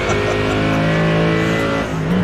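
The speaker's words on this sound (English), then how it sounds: "This car is a V8. Listen to the difference." V8-powered GT3 race car in the iRacing sim at Sebring, its engine holding a loud, steady, harmonic-rich drone close by with a slight pitch shift near the end, no talk over it.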